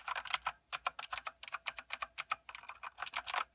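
Rapid typing on a light-up computer keyboard, a quick run of crisp key clicks in close, uneven bursts with brief pauses, heard alone with no talking.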